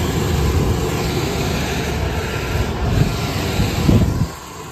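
A kitchen HVAC blower motor runs with a dense, steady low roar and airy rush, loud and close throughout, easing down slightly at the end.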